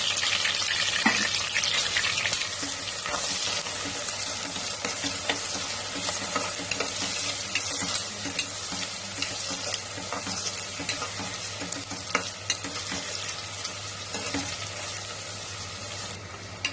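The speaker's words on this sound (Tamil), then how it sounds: "போட்டு எல்லாத்தையும் நல்லா வதக்கி விட்டுடலாம்." Onions and green chillies sautéing in hot oil for mutton biryani, a steady, bright sizzle with occasional spoon scrapes and stirring clatter, close and continuous, with no talking.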